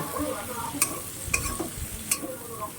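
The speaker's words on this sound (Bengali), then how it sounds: "এটাকে আমি এই চিংড়ি মাছের সাথে পুরোপুরি ভেজে নেব" Prawns frying in a pan with four chillies, two onions and a tomato: a soft, steady sizzle with occasional sharp clicks of a stirring spoon against the pan, fairly quiet and close.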